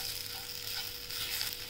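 Whole garlic, cinnamon, black pepper, cloves and cardamom sizzle steadily in a hot pan while being stirred, a close, continuous frying hiss with no talk.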